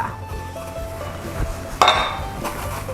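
A spoon stirs frog mok ingredients with herbs in a pot, Isan-style, making clinking and scraping metal-on-pot knocks with one sharper clang near the middle, close and moderately loud.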